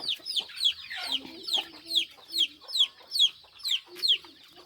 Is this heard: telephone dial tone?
no